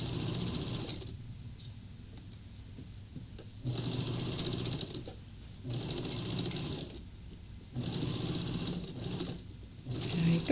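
A sewing machine topstitches the waistband of a Christmas half apron with a longer stitch length, running in several loud bursts separated by brief pauses.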